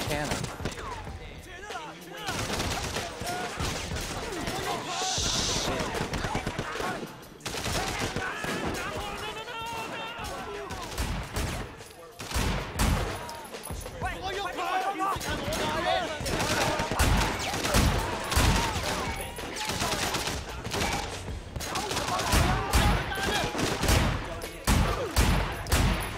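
Rapid gunfire bursts from the Sleeping Dogs video game on PC, loud and repeated in clusters throughout, mixed with game noise while someone talks excitedly over it.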